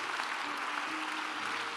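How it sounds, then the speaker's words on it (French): A church congregation applauds during a worship service, a steady wash of many hands clapping at moderate distance, continuous for the short stretch with no voices standing out. "put your hands together for the word of the Lord"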